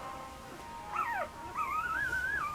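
A poodle puppy lets out high, thin squeaks: a short rising-then-falling whine followed by a longer wavering squeal, close and moderately loud over a quiet room.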